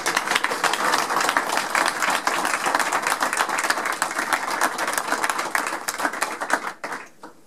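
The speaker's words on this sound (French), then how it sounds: "Je pense qu'on peut l'applaudir une nouvelle fois." Audience applause at an exhibition presentation about Marshal Jean de Lattre de Tassigny: dense, steady clapping from a crowd for about seven seconds, tapering off and thinning out near the end.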